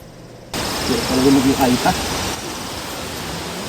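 The tall Buruwisan Falls in Siniluan, Laguna roars as a steady, dense rush of falling water, with a voice heard briefly over it.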